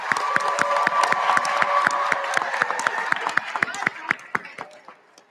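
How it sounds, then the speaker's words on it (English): Audience at a school awards assembly for grades 5-8 honor roll students applauds with steady, fairly distant clapping that gradually thins to scattered claps, with some voices mixed in. "let's give them a big round of applause"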